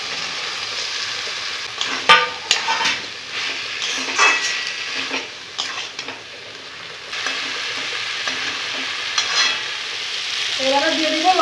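Fried vegetables going into melted tomato masala for vegetable paneer, then stirred in the pan: loud spatula scrapes and clatters come in irregular bursts over a steady sizzle, with a quieter stretch midway before stirring resumes.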